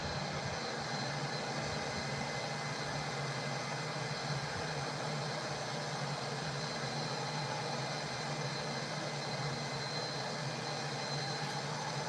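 Steady jet engine drone of a Delta Airbus A320 in cruise in Microsoft Flight Simulator 2020, a constant even hum with no breaks or talk.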